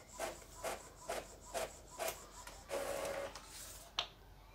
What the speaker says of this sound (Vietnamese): Nếu cài đặt thành công thì máy sẽ in ra một tờ Windows Printer Test Bay.